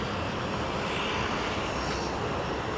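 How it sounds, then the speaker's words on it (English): A float plane's engine drones steadily while the aircraft docks, a constant, fairly close propeller-engine roar with no breaks. "A float plane, floating as in it floats in the water."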